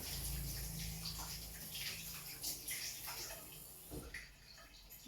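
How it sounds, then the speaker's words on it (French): Tap water runs into a kitchen sink while hands are washed, a soft, steady, fairly faint splashing with a few louder splatters, no voice over it. "Je me lave les mains."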